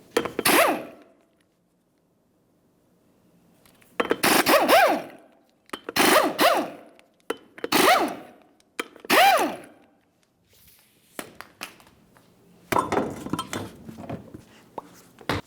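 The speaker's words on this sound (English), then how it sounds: "you're going to remove all 5 of your 19mm lug nuts and then the wheel" Five 19mm lug nuts come off a Ford Transit Connect wheel, then the wheel itself. Several separate bursts of metallic rattling and clinking are spaced by short pauses, close and fairly loud.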